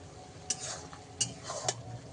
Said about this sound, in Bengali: এবার 2 মিনিট নেড়ে চেড়ে দেবো,